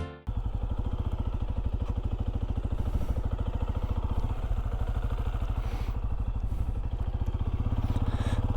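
A Benelli Imperiale 400, a 400cc single-cylinder retro motorcycle on a test ride, fires into a steady, close, rhythmic thumping engine note, with a loud pulse from the start and faint wind noise over it.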